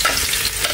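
Garlic frying and being stirred in a pot while a fish hotpot is prepared, giving a steady close sizzle with scraping stir noises through the short stretch, with no talk.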